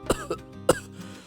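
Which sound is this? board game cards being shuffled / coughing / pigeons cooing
coughing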